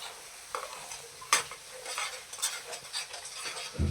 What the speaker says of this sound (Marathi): आपल्याला मिश्रण सुकेपर्यंत असं हलवत राहायचं आहे